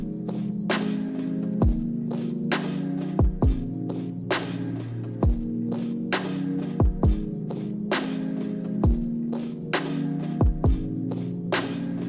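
A looping hip hop beat plays with deep booming kicks, crisp snares and hi-hats in a steady, repeating groove.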